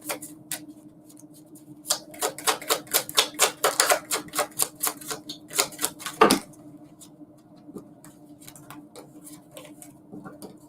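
Tarot cards from a couple of decks being shuffled and pulled, a quick run of crisp card snaps and flicks in a fast riffling burst, ending in a louder slap, then scattered softer handling clicks in a quiet room.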